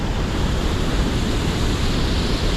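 Whitewater rapids roar at the Seven Sisters section of Río Alseseca in Veracruz, Mexico, a dense, loud, unbroken rush of churning water filling the scene without any voices.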